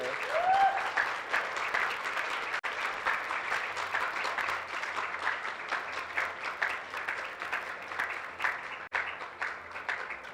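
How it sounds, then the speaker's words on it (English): An audience at the SHOUT4Change national youth environmental speaker finals in Guyana claps steadily for the second place winner, a sustained, even wash of applause lasting throughout. "Please keep the applause going."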